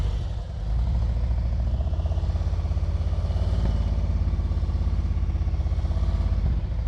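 A motorcycle engine idles and chugs at walking pace during slow-speed riding practice without the rear brake, a steady, close, rhythmic low putter with light mechanical clatter and no talking.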